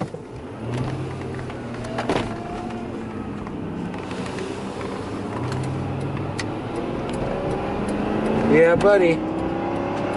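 A Lincoln limousine pulls away and gathers speed, its engine and road rumble swelling steadily from inside the cabin, with a voice speaking briefly over the car noise.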